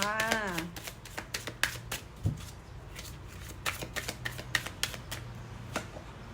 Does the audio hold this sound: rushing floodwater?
no